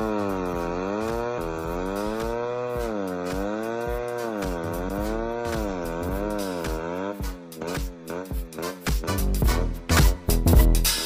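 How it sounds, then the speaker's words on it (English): A remote-controlled mowing machine cutting grass, its engine droning steadily and rising and falling in pitch as it works, then turning rougher and choppier with loud clattering bursts near the end. "His job is to cut the grass and is controlled by remote control from a distance of up to 10 meters from"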